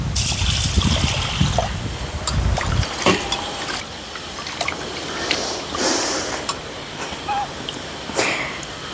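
Lentils (parippu) are washed in a pot of water for a drumstick and lentil curry, giving close, continuous sloshing and trickling with occasional clinks, with no talk over it.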